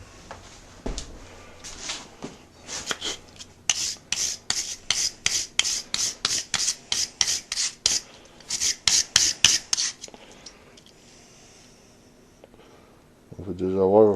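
A small steel wire brush scrubs a rusty hand tool after electrolysis rust removal, giving a long run of quick, rasping back-and-forth strokes up close, with a brief pause, then a low rumble at the end.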